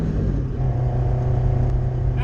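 Loud, close engine rumble of a Toyota AE86 under acceleration, a dense low growl filling the whole short stretch without pause.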